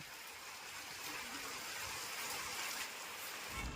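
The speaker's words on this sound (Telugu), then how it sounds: "చాలా గట్టిగా అయితే వర్షం పడుతుంది చూడండి ఏ విధంగా పడుతుందో" Heavy rain pours down on a village, making a steady, dense wash of hiss that stays at an even level throughout with no pauses.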